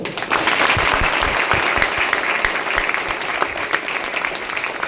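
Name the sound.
audience clapping loudly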